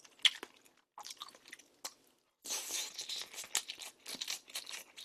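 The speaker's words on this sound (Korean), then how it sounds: "이 김밥을요 여기다 이렇게 찍어 가지고 먹겠습니다" Kimbap dipped in jjajang tteokbokki sauce being eaten up close, with wet chewing, soft crunches and crinkly tearing in uneven bursts, a short pause midway, then denser continuous chewing.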